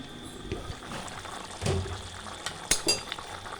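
Fried eggplant pieces tipped into a simmering fish curry, giving a few soft clinks of utensil on pan and brief sizzling stirs over a low bubbling background, close and fairly quiet.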